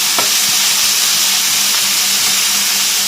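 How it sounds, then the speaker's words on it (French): Lardons frying in a pan on a home kitchen stove, a steady close sizzle with occasional pops and faint stirring clicks, no voices. "Voilà, là je fais revenir mes lardons."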